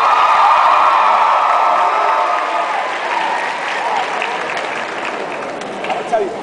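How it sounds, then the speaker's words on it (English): Audience applause at a high school graduation ceremony: dense, sustained clapping from a large crowd, loud at first and easing slightly, with scattered cheers and whoops over it. "can we hear it for our amazing assistant principal, Ms. Fernbrand?"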